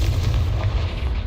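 Confringo spell explosion in Hogwarts Legacy, a deep booming rumble with a burst of crackling debris, loud and heavy for a brief moment.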